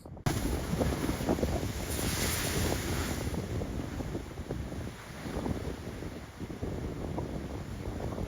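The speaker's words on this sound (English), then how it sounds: "I am glad I'm not that close to those waves." Rough ocean surf near Reykjavik, Iceland rumbles and washes continuously with heavy wind buffeting the microphone, waves swelling and fading in the background.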